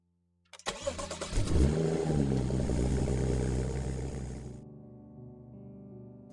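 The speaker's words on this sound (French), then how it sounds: "Il démarre la voiture." A car engine cranks and catches, then roars steadily as the vehicle pulls away, and the sound cuts off abruptly afterward.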